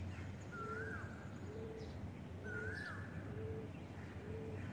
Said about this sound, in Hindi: पक्षियों की सुंदर ध्वनि को सुनते हुए